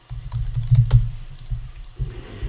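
Keyboard typing in the video game Paul Of Cthulhu: a steady run of soft, close key clicks, unaccompanied by speech.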